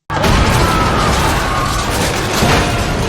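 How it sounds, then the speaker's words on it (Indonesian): A loud, sustained roaring blast with rumbling debris and crashing noise that fills the whole stretch without letup. "terjadilah ledakan yang cukup besar"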